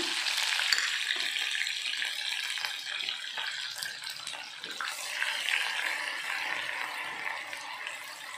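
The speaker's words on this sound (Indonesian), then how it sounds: "Kita goreng dulu bumbunya." Spice paste for Sundanese sambal oncom fries in hot oil, a steady bright sizzle and crackle that goes on throughout without pause, with no voices.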